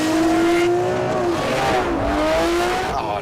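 Lamborghini Murcielago LP670-4 SV accelerating hard from a standstill, a loud, close engine roar that climbs steadily in pitch with brief dips at the gear changes, with no talking over it.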